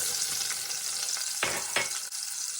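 Onions frying in rendered short-rib fat in a pan, giving a dense, steady close sizzle with a couple of brief stirring scrapes and no voices.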